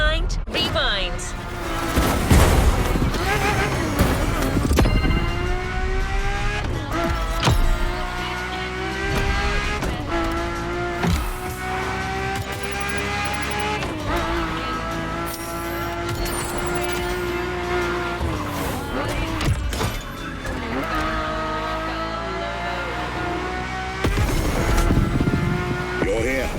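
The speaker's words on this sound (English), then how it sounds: "nothing less than a road-legal Formula One, the Ferrari F50" Ferrari F50 in a racing video game, its engine revving and howling continuously with gear shifts and occasional tire squeal, loud and close, under speech.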